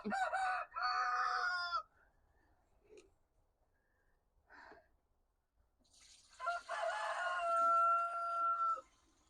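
Roosters crow loudly and close by at a garden homestead. One long crow opens, a quiet stretch with faint clucks follows, then a second drawn-out crow comes near the end.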